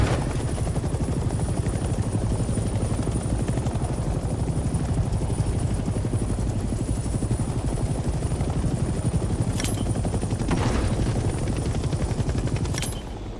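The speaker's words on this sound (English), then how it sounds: "Let's land the helicopter on a helipad and turn the engine off." A helicopter in the video game Hell Let Loose, landing on a helipad, gives a loud, continuous rotor thump and engine roar throughout, with a few faint sharp clicks near the end.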